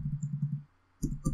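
A few quick clicks on a computer keyboard while entering a cheat code in The Sims 4, a close run of light taps, a short pause, then two more sharp keystrokes.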